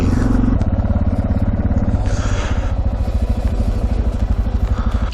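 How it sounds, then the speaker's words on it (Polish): A motorcycle engine rumbles with a steady, throbbing pulse close by, with occasional higher rushes of wind or passing traffic, during a motorcycle blessing event in Prądnik Korzkiewski, Poland. "Są jakieś motorki."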